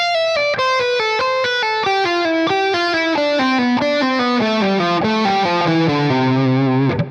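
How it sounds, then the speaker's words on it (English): A distorted electric guitar with chorus plays a legato pattern descending, a loud, fluid run of evenly spaced notes stepping steadily downward, ending on a sustained low note. "if we descended using that pattern, it would sound like this"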